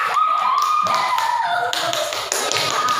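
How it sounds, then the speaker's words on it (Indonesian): A classroom of students claps for the red group during a maths lesson on cube volume, a loud dense burst of hand claps and taps up close, with a faint ringing tone underneath. "beri aplaus untuk kelompok merah"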